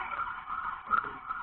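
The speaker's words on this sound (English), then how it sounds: "you might hear a siren in the background" A siren wails along a New York City street, a steady sustained tone that stays fairly loud and constant through the moment, with no voices over it.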